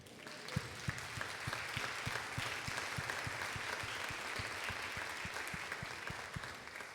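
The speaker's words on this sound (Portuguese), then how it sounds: "Se você crê nisso, aplauda o Senhor" Church congregation applauding during a sermon, a sustained wash of many hands clapping with a few sharper rhythmic claps standing out, fairly faint and distant throughout.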